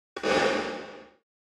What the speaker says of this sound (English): And here's the actual reverb itself.